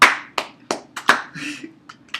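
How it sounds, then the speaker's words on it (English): A lone pair of hands giving a slow, deliberate golf clap, about seven sharp close claps spaced unevenly with brief pauses between them. "clap for demon players out there. Golf clap."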